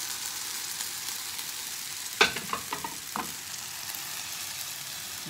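Coconut flour wrap batter frying in a smoking hot pan, a steady soft hiss with a few sharp scrapes and clicks from a utensil partway through.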